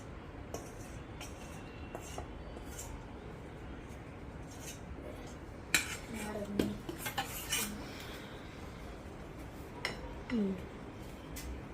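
Flour being mixed into mashed banana cake batter in a bowl, quiet scraping with sporadic utensil clinks against the bowl, faint throughout.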